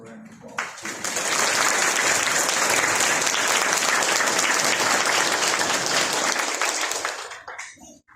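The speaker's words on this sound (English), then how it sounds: "So give them a round of applause" A round of applause from the audience at a high school piano and choral awards banquet, with loud, steady clapping that swells in after a moment, holds for about six seconds, then tapers off.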